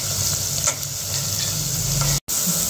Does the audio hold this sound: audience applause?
no